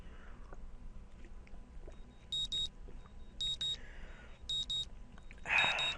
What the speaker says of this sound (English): The sound of my alarm brings me out of a dream